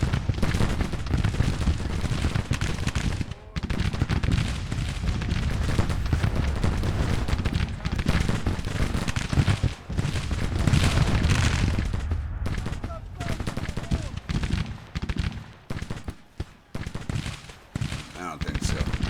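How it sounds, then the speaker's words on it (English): Civil War battle in the game Grand Tactician: The Civil War, with dense, continuous cannon and rifle fire rumbling and crackling throughout, and a voice talking over it. "artillery."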